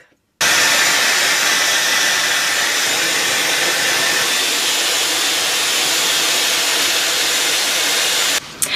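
A hair dryer runs at a steady, loud, close blast for about eight seconds while drying rose gold dyed hair, switching on abruptly and cutting off near the end.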